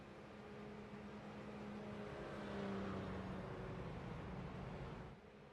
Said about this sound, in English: The number 7 car going to catch up to the iRacing Porsche 911 pace car